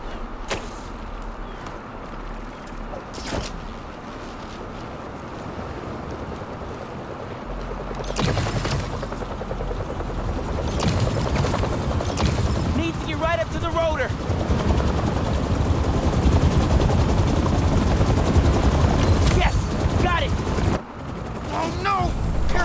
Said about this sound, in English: Something like a helicopter? Helicopter's blades.